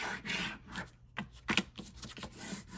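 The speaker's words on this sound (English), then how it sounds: "I'm just going to fold this here. Just kind of, do your little fold lines or whatever." Paper is folded and creased by hand to make a journal pocket: quiet, close rubbing and sliding strokes with a few short, sharper scrapes as the fold lines are pressed.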